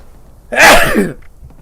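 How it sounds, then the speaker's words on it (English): A single loud, close sneeze bursts out alone during a late-night gaming livestream, then the room falls quiet. "Didn't need to sneeze like that."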